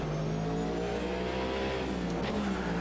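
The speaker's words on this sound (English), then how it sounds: "do you remember what I was saying about the noise this car makes?" A racing car engine from the IMSA class in the Automobilista 2 sim, droning steadily and loud at high revs throughout, with a brief tonal sweep near the end and no talk over it.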